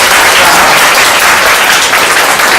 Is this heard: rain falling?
no